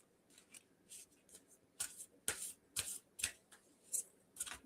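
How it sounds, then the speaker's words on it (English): Tarot cards being shuffled by hand, a run of crisp riffling bursts and soft flicks that grow louder and more frequent, close and clear with no talking. "I'm shuffling now"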